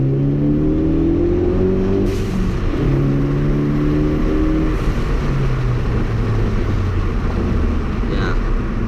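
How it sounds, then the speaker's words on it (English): A 2013–2016 Ford Focus ST fitted with a COBB catback exhaust accelerates hard, its droning engine note rising in pitch through gear changes, loud and continuous from inside the car. "that's what the exhaust sounds like"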